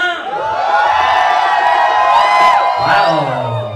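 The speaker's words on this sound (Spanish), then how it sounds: "Cuando yo diga el grito de la familia Tosca grita, ¿ok?" Wedding guests at a reception in Cuernavaca shout, whoop and cheer together on cue, a loud, dense crowd roar that swells and holds for several seconds with high excited voices rising above it.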